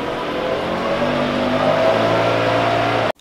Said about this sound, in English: excuse the leaf blower noise